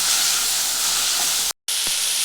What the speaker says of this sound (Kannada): ಇದನ್ನೊಂದು 5 ನಿಮಿಷ ಚೆನ್ನಾಗಿ ಸಿಪ್ಪೆ ಬಿಡೋ ತನಕ ಫ್ರೈ ಮಾಡಬೇಕು.